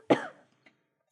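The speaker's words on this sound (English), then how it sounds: "Certainly not this acid reflex cough" A single short, sharp cough from someone with acid reflux, close and fairly quiet, followed by near silence with a faint click or two.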